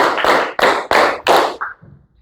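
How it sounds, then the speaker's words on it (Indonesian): Classroom children clap in unison in a counted rhythm, five or so strong, close group claps at a steady pace, tapering to a softer, scattered clap and faint shuffling. "Tepuk 1, tepuk 2, tepuk 3, tepuk 4"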